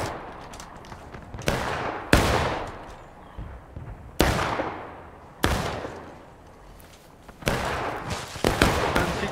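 Repeated musket gunfire in the American Civil War video game War of Rights: about five loud, sharp shots at irregular intervals, each with a long rolling decay, alongside scattered more distant shots.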